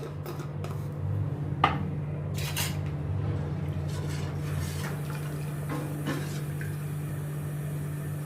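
Sindhi curry ingredients with besan and red chili powder are mixed in a pan: light spoon clinks and scrapes against metal sound over a constant low hum.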